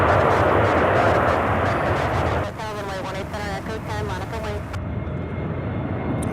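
Boeing 737 jet engine noise at an airport, a loud rushing roar that fades after a few seconds, while someone talks over the later part.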